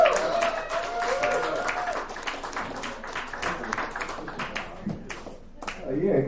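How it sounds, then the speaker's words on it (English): Comedy club audience applauds at the end of a tag-team set in a dive bar, a steady wash of clapping that runs throughout at moderate level, with some voices mixed in. "Jake and Alex Yardley, another round of applause."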